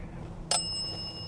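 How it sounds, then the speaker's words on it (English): A single bright ding of a small bell, like a bicycle bell, rung once and left to ring out faintly over a quiet background; no one speaks. "Can you set the bell off for yes?"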